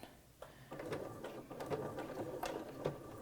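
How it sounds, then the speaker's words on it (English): A sewing machine back stitches a placemat with soft, quick mechanical whirring in short bursts and faint clicks of the mechanism, fairly quiet and close. "So we're gonna start sewing."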